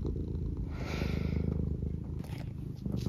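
A house cat purrs steadily and close, a continuous low rumbling with faint background noise and no talking.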